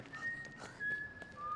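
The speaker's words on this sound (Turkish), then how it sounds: "Daha doğrusu bütün mahalle ıslığımdan nefret ederdi." A person whistles a long, thin, sustained tone in a short film, with the pitch stepping slightly and faint background noise underneath.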